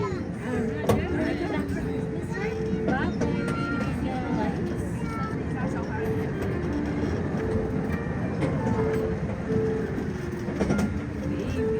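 A miniature train pulled by a locomotive rolls through Irvine Regional Park, a steady low rumble and clatter running throughout beneath an announcer's amplified voice and occasional bird calls.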